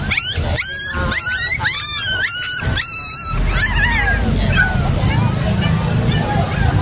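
Pomeranian and chow chow crossbreed puppies at a pet market give a burst of high, repeated yelps and whines over busy crowd chatter, then fade into the background babble.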